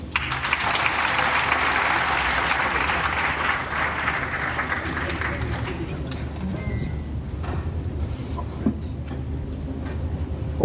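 At a university graduation congregation at KNUST in Ghana, a large audience applauds in a broad, sustained burst that gradually thins and fades about halfway through, leaving quieter hall ambience.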